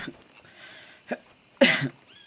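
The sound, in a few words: coughing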